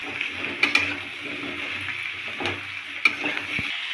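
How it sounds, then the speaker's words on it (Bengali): Diced potatoes and pumpkin fry in oil with a steady, soft sizzle, broken by a few sharp clicks and scrapes of stirring in the pan. "তো আলু আর কুমড়োটা আমরা প্রথমে একটুক্ষণ ভেজে নেব।"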